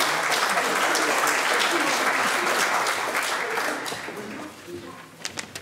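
An audience applauds to welcome Major Michael Himes before his monologue as Barrabas, steady full-room clapping that holds strong, then thins out and fades to a few scattered claps at the end.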